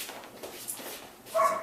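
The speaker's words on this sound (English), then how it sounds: "Even with dog bark distraction." A dog barks near a training session, a few short yips and a louder bark at the end, fairly close and with no talking over it.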